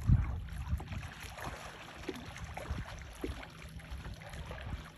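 A small boat paddled across open sea, with soft, irregular water splashes and strokes under steady wind noise, close and fairly quiet, with no talking.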